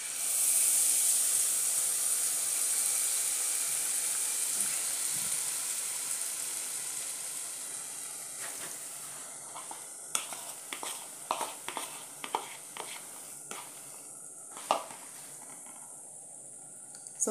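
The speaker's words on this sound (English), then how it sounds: "So that's what it's look like frying." Christmas fritter batter sizzles steadily in hot oil in a pot, a loud bright hiss that slowly eases, broken later by sharper pops and crackles.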